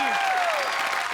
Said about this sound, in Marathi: जोरदार टाळ्या झाल्या पाहिजेत अमित राज संगीतकार यांच्यासाठी